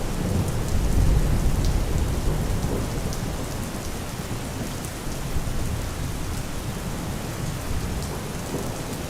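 Steady, heavy rain falls throughout while low thunder rolls and rumbles, loudest near the start before settling into a constant downpour.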